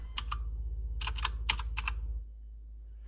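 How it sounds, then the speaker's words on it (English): Typing on a Keychron K2 keyboard inside a fridge, a few quick bursts of sharp, slightly tinny keystrokes over a steady low compressor hum. "so I tested out the keyboard in my fridge. I did notice a bit more of a tinny sound in here"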